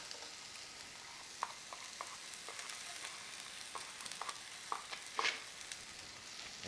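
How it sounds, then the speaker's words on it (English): Red pepper and Vidalia onion sauté in a pan with a faint, steady sizzle broken by soft clicks and scrapes of stirring, quiet and close. "I want to saute this down just because it takes out the bite from the onion"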